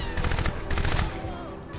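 Enemy gunfire in the Crysis shooter game: loud bursts of rapid automatic fire come in clustered volleys, then ease into quieter background combat noise.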